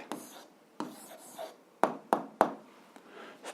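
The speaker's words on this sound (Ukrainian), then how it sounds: "записуємо відповідь, пишемо відповідь" Pen writing out an answer by hand on paper during a 7th-grade algebra lesson, heard as soft scratchy strokes broken by several sharp taps, close and quiet, with no talking.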